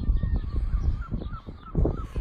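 Geese or similar fowl honk repeatedly outdoors over a grassy spot. The calls come in a loose series, moderately close, over a soft background of wind and ambient noise.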